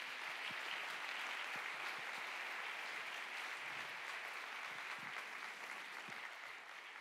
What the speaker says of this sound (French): Je vous propose d'applaudir maintenant Julie Schniedrich de la ville de Genève